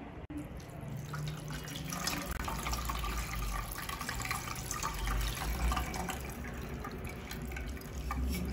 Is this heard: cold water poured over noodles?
yes